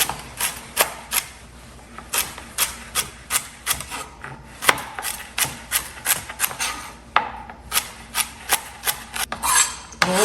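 A knife chops one stalk of celery into small pieces on a cutting board, with a steady run of crisp, close, evenly spaced cuts and a short pause partway through.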